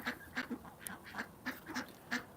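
Farm ducks quack at feeding time in quick, nasal bursts, several calls spaced through a couple of seconds, close and fairly clear with no talk.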